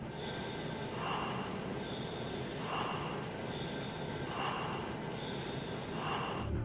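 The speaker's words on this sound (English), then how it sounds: "while Raiden is wearing this mask, we will be able to hear his breathing." Raiden breathes through a diving mask in the Metal Gear Solid video game, with slow, regular breaths repeating about every one and a half seconds over a constant hissing background.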